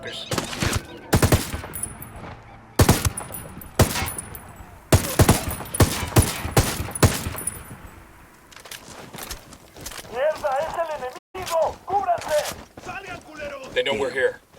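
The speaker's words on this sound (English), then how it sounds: "Opening fire on these fuckers." Rapid bursts of loud gunfire crack out in Ghost Recon Wildlands, a string of sharp shots followed by quieter stretches where voices talk over faint background noise.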